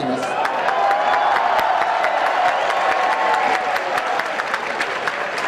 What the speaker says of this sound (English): Up into the ring came Asanoyama to collect his first trophy, and the crowd cheered